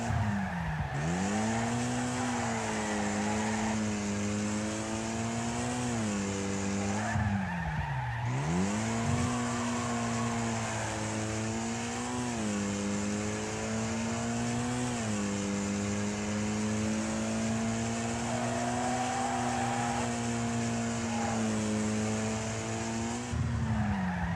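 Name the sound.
race car engines on the last lap in the video game Wreckfest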